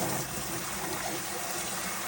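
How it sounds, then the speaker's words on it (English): Dyed silk being rinsed under running tap water, a steady close rush of water, with no talking. "you want to rinse it until the water is pretty clear"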